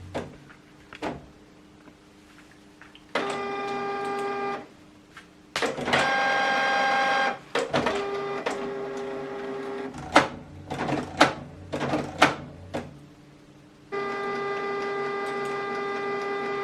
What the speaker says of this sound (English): So this document now is going to print out from here